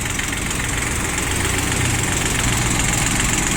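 A Yanmar F13 three-cylinder diesel 4WD mini tractor idles steadily nearby, a constant low rumble with a slight knocking rhythm and no voices.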